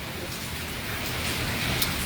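Heavy rain in a severe storm in Kaithal, a steady dense hiss of downpour filling the whole stretch at even loudness, with no voices.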